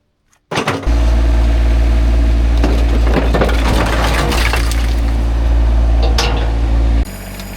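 A Yanmar SA425 compact tractor roars steadily while breaking up concrete, with crunching, scattered cracking and scraping impacts over a constant low engine drone.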